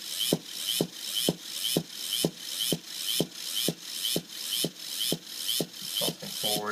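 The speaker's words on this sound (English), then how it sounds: "You'll be able to see when the motors switch directions because they're going to jump." Small DC motors controlled by an Arduino Nano pulse on a breadboard, giving a regular series of about fourteen sharp mechanical clicks roughly every half second, each with a brief buzz, quiet and close.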